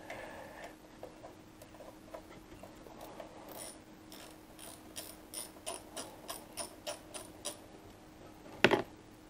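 A hand ratchet loosens a T30 Torx bolt on a Harley-Davidson Pan America motorcycle's steering stabilizer, giving a steady run of close, crisp pawl clicks that grow more distinct and regular, ending in a sharp metallic clatter.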